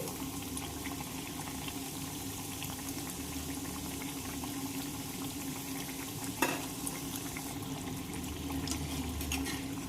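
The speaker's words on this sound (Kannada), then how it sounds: "ಮೀಡಿಯಂ ಉರಿಯಲ್ಲಿ ಇಟ್ಟು ಫ್ರೈ ಮಾಡ್ಕೋರಿ" Rice chakli frying in a pan of oil over medium heat gives a steady, moderate bubbling sizzle, with a brief clink near the end.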